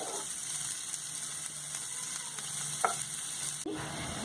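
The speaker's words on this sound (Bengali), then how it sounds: "পেঁয়াজ ভেজে নিতে হবে।" Onions frying in hot oil with whole dried red chillies and a pinch of nigella seeds, a steady close sizzle with brief scraping stirs, for a fried bottle gourd leaf dish.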